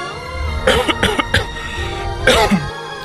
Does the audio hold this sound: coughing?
yes